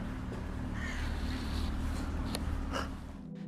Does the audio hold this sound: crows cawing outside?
yes